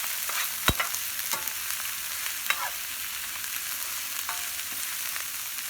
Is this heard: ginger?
yes